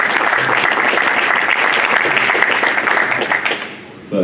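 Sustained applause from a press conference audience for two young boxers, steady dense clapping that fills the room and then tapers off near the end.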